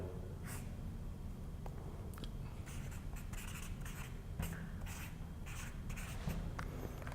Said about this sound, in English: I'm just going to write the elements here